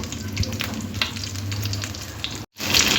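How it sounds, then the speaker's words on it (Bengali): Vegetable bread rolls frying in hot oil until crisp, a steady close sizzle with small pops, briefly cut off before the crackling resumes loudly. "দুই সাইড খুব সুন্দর করে একটু সময় ধরে ভাজতে হবে তাহলে একটু খেতে মোচমোচে হবে"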